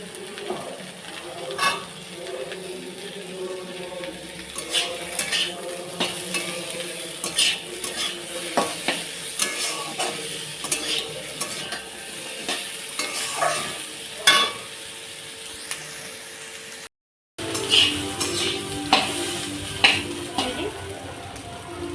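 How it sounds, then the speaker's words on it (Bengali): Steady sizzling of potatoes and onions frying in goat fat in a pan, with repeated scraping and stirring strokes throughout and a brief gap near the end. "এখন আলু আর পেঁয়াজটা ভাজা হয়ে গেছে"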